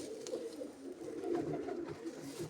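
Soft, low cooing of pigeons, repeated throaty calls overlapping at a gentle rhythm, fairly faint and close, with no speech.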